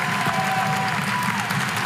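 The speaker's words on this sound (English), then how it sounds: "applause from the crowd as she gets up to her feet" A basketball arena crowd at a women's college game between Gardner-Webb and North Carolina applauds steadily as an injured player gets up, a broad sustained clapping wash under faint background tones.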